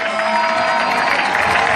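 A large crowd at a political gathering in Libreville, Gabon applauds warmly with dense, continuous clapping and cheering. A sustained tone from a public address system hums over the clapping.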